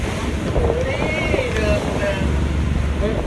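On a boat out at sea, strong wind buffets the microphone and waves surge in a constant rough wash, while voices carry through the noise.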